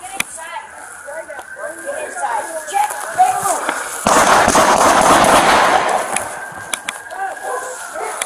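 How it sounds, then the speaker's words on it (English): Gunfire between a suspect armed with a long gun and police: a few sharp cracks stand out against a backdrop of noisy radio chatter, with a burst of loud static in the middle. "the suspect exchanges fire with police again"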